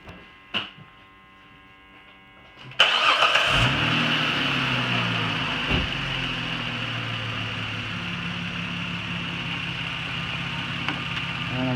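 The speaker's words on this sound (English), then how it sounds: "Press enter again, and then I'm going to start the car." A 2006 Chrysler Sebring with a head gasket fault and its radiator cap removed cranks and starts with a sudden loud catch, then settles into a steady, close, even idle hum that carries on alone.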